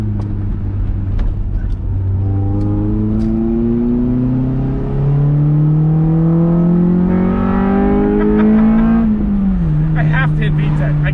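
A Honda Del Sol engine revs loudly from inside the car as it accelerates, its droning pitch climbing steadily through the gears before dropping off near the end.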